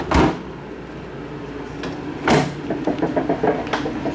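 A full-size residential refrigerator in a park model home has its two upper doors swung open and shut, giving two soft thumps with light rattling and handling noise in between.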